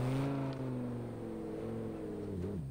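Lamborghini engine in a video game, a loud steady droning hum holding near one pitch with a slight dip near the end, heard alone.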